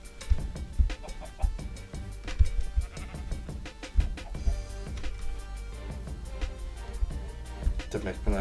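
Minecraft sheep bleat repeatedly in short wavering cries over low thudding knocks, close and fairly loud, in an irregular rhythm.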